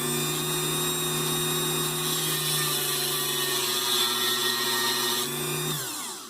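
Rotary tool with an abrasive wheel grinding a notch into metal tweezers: a steady high whine under light pressure that winds down sharply at the end.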